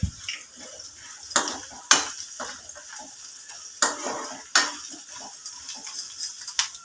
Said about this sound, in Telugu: 1 స్పూన్ ధనియాలు, 1 స్పూన్ జీలకర్ర అండి, ఒకసారి తిప్పేసుకోవచ్చు